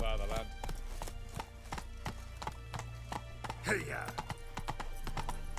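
Horse hooves clip-clop in a quick, steady trot over a hard surface, with a brief snort and background music and sounds from the game The Witcher 3.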